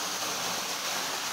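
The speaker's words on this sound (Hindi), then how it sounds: "ये पानी जो ऐसा नीचे गिर रहा है" A large waterfall at Chhota Mahadev pours down in a steady, loud, unbroken rush of falling water, with no one talking.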